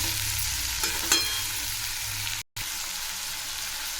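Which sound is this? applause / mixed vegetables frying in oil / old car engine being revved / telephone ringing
mixed vegetables frying in oil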